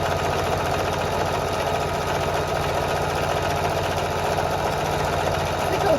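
A sewing machine hums and chatters continuously and close up while stitching a jelly roll rug, its motor labouring steadily throughout.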